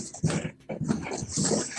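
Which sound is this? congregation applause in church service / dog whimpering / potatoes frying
dog whimpering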